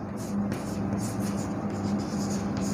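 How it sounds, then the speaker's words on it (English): Marker or chalk writing on a board in a classroom, a steady soft scratching and squeaking in short strokes under a constant low hum. "Enzyme name I am writing."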